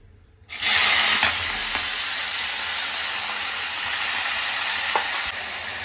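Spinach, eggplant, beans and potato hit a hot pan with a sudden loud sizzle, then a dense, steady frying hiss close by with a few stirring scrapes, no voices.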